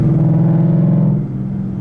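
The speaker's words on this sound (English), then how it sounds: "All these poor people in this neighborhood are now being treated by the exhaust noises, the symphony that comes out of these pipes." A 2015 Ford Mustang GT V8 exhaust burbling at a low, steady idle or cruise in a residential neighborhood, deep rumbling drone close by that eases slightly near the end, with no talk over it.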